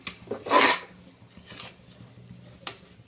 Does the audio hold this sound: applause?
no